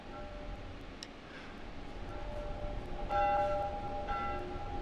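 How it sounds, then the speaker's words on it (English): A bell tolls in The Last of Us, struck several times at a steady pace, ringing moderately loud and clearest near the end over a low background rumble. "This stupid bell, man."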